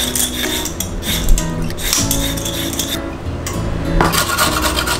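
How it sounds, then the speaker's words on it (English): Carrots being peeled with a hand peeler in a home kitchen, giving a steady run of close, rasping scrapes with a few light clinks of utensils in between. "Peel your carrots, always peel the carrots."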